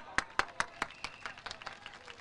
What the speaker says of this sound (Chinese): 我哋有冇俾啲掌声？